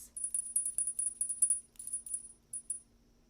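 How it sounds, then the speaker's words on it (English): A small metal bell decorated with a tree is shaken, producing a rapid run of thin, high jingling strikes that thin out and stop, heard alone and fairly soft. "Group number 2 is this sweet little bell."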